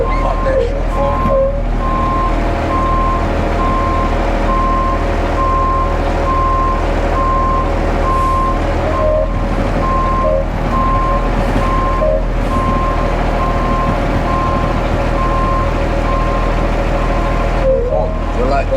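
A concrete mixer truck reverses, its backup alarm beeping in a steady repeating rhythm over a loud, constant diesel engine rumble, with occasional air-brake hiss.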